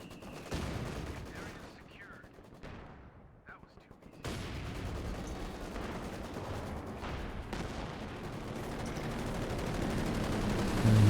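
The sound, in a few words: Maxim machine guns firing in a video game battle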